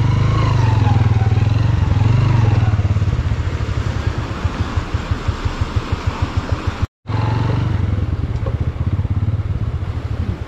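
A motorcycle on a mountain road in Basho Valley near Skardu runs close and loud, its engine dropping to a rhythmic idle thump, cutting out briefly, then resuming steady running.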